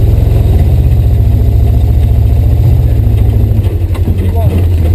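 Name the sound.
off-road vehicle engine revving in snow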